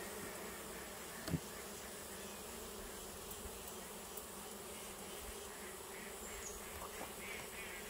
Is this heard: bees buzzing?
yes